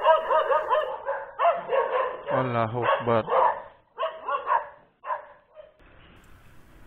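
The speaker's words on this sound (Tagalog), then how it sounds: "mga aso yung sumalubong sa akin" Several dogs bark and yelp close by in a rural Philippine roadside spot, a quick run of overlapping barks followed by a few scattered yips, with someone speaking briefly over the noise.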